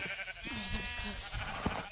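Sheep bleat in a survival video game, a few short wavering calls over a steady background hum, moderately close.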